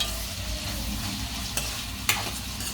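Mutton keema with onions cooks in a kadai over the flame, a constant dense sizzle with two brief, sharp scrapes of a spatula against the pan.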